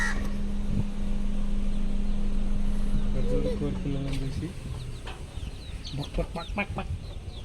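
Chickens clucking nearby in short bursts over a constant low hum, with scattered bird calls as the noise thins out.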